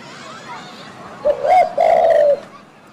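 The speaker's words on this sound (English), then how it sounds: "The sound of a bird in the tree that I'll still remember today" A bird calls from a tree, a pair of clear, loud cooing notes like a pigeon or dove, heard alone against quiet background.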